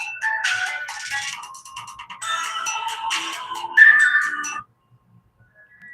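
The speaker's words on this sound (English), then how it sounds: "y'all, my phone is ringing." An electronic ringtone chimes in bright, repeating melodic bursts for several seconds, fairly loud and close, then stops into near silence.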